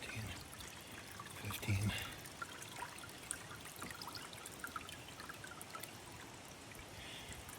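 Water trickles steadily into a gallon container in a soft, continuous stream that runs beneath a person talking.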